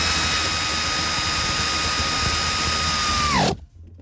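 A power tool tightens bolts on a 2015 Dodge Ram 3500, a loud close continuous whine that winds down and stops abruptly near the end.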